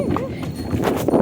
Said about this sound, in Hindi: घोड़ा गाड़ी के मजे ले रहे हैं हम लोग